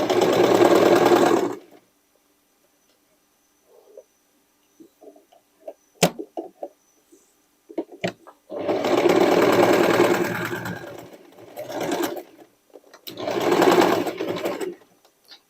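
Sewing machine stitching sweatshirt fabric for a dress, running in three loud bursts of steady whirring with quiet pauses and small clicks of fabric handling between them.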